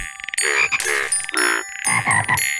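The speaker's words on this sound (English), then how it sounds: "Great job adding more frogs." Cartoon frogs croak in a Curious George video game, giving several bright, tonal croaks in quick succession. Each one is distinct, close and loud, with no talking.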